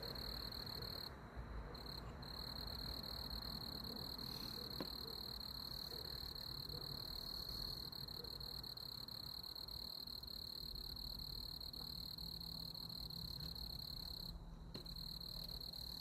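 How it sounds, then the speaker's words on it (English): Crickets chirp steadily and close by on a warm, quiet evening outdoors, a constant high trill with faint background hum and no voices. "there's a couple of crickets right there next to the camera, so I know you guys can hear those"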